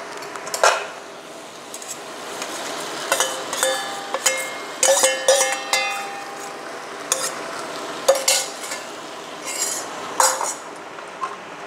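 Chunks of jackfruit go into a pan of well-fried spice paste and are stirred. A metal spoon scrapes and clinks in scattered bursts over a soft sizzle, with no talking.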